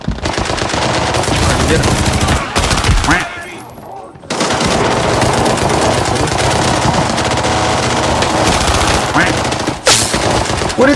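Sustained, very loud automatic gunfire in the Arena Breakout shooter game, near and dense, with a brief lull midway and a short shout from a player over the shots.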